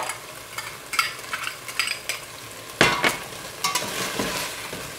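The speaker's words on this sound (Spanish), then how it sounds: "se la voy a poner al pollo para esperar a que se dore y que me haga una costrita doradita" Chicken coated with sugar sizzles and fries in a pan as it browns into a crust, with a steady hiss and a few louder bursts of stirring and scraping.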